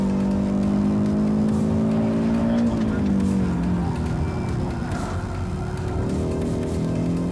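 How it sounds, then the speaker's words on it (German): An Audi RS 3 compact sports car on a fast lap around a race track, its engine droning loudly and steadily in-cabin and its pitch falling as it brakes into a corner, with a voice speaking over it. "Am ersten Bremspunkt in Kurve 1 ist er bereits 164 km/h schnell."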